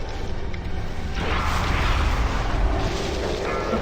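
A loud explosion in a video game boss fight, a sustained broadband rumble that swells after a brief lead-in and holds steady, dense and close throughout.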